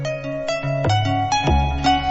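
A 1990 instrumental plays, a bright synth tune with a steady pulsing pattern and deep bass hits. It sounds full and continuous, with no talking.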